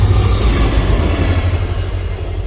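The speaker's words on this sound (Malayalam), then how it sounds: "There is A train coming. പക്ഷേ എൻജിൻ മാത്രം." A lone railway locomotive engine without carriages passing through Tirunavaya railway station, a loud, steady, deep rumble close by with faint high wheel squeal.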